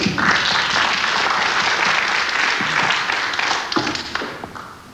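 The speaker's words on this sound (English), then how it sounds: "That shot appreciated by the crowd here at the Casino de Deauville." Crowd applause breaks out at a pool match in the Casino de Deauville, an 8-ball challenge, with steady dense clapping for several seconds that thins out toward the end.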